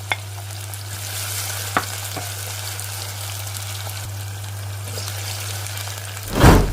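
A potato curry base of onion and chilli fries in a pan with a steady, soft sizzle over a low hum, broken by a few faint clicks and a louder stirring burst at the end.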